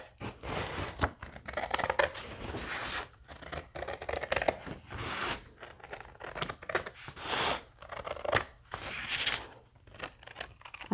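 Scissors or a blade cut through material while a diamond painting is framed, giving a close run of crisp snips and crinkles in uneven bursts with short pauses between them.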